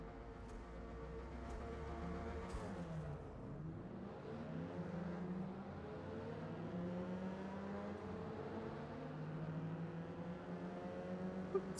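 Ford Sierra Cosworth engine on track in Forza Motorsport: a fairly quiet, steady engine drone with shifting harmonics as revs rise and fall, plus a few faint clicks, no voices over it.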